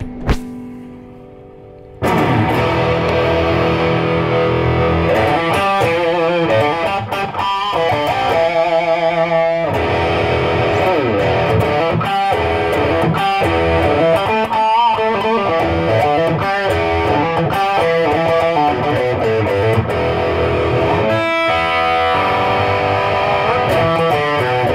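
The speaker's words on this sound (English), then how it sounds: "what's a LP style guitar without a little distortion" A heavily distorted Eastman SB59/V LP-style electric guitar plays chunky chords and riffs, loud and gritty, following a brief quiet tap before it starts.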